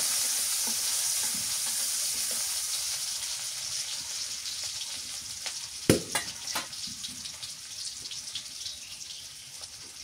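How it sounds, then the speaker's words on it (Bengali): Green chili paste frying in foaming oil gives a continuous close sizzle, which crackles more sharply and unevenly after a sudden sputtering burst partway through, with faint stirring. "তেলটা ভালো ফেনা উঠছে, কাঁচামরিচ বাটা দিয়ে দিলাম"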